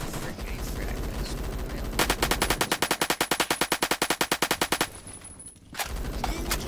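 Automatic HK416 rifle fire in a Fortnite-style shooter: a steady, rapid burst of evenly spaced shots lasting a few seconds, loud and close, set against a busy game background with brief gaps before and after.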